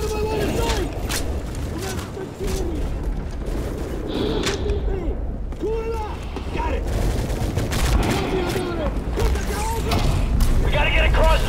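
Dense, continuous gunfire in a Call of Duty courtyard firefight, with many overlapping shots and booms under urgent shouted voices throughout.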